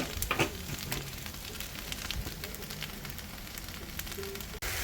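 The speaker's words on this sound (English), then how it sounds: "Alright, so we've got the onions going, browning, and the bacon." Onions and bacon fry together on a barbecue hotplate for hamburgers with the lot, a soft, steady crackling sizzle with a few brighter pops early on.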